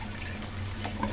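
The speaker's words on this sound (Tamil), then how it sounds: "இப்போ நம்ம வந்து தண்ணி ஊற்றிக்கலாம்" Water poured into a pan of goat liver pepper fry, a short, close splashing pour lasting about a second with no talking.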